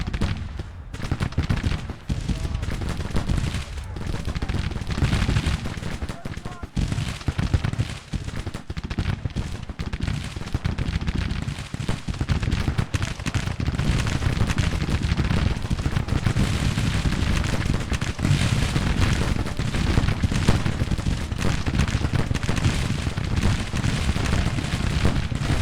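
Cannon artillery fire in the Civil War strategy game Grand Tactician, a sustained barrage of booming shots and crackling gunfire, dense and continuous, near and loud for the whole stretch, with no talking.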